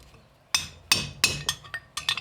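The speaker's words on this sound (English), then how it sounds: "you don't usually use a hammer and chisel to take a Lambretta head off" A hammer strikes a chisel against the cylinder head of a 1965 Lambretta scooter left long abandoned in a bar. Six or seven sharp metallic clinks come at an irregular pace, close up, with no talk.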